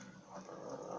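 A dog growling in the video game Fallout New Vegas, a low, rough, sustained rumble lasting about a second, faint and close with no speech over it.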